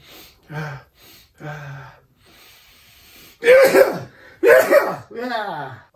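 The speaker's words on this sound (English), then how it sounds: "I gotta sneeze." Two loud, close sneezes a second apart, preceded by sharp intakes of breath and followed by a drawn-out vocal groan.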